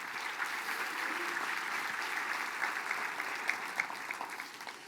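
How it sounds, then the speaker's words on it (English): An audience applauds former leaders at a Mille Lacs Band of Ojibwe gathering with a steady, even wash of many hands clapping that tapers slightly at the end. "Let's give those former leaders a round of applause."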